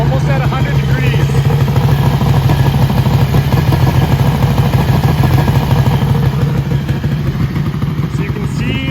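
A motorcycle engine idles steadily while warming up in cold-weather storage conditions, a loud, continuous mid-pitched drone with a faint clatter running unbroken throughout.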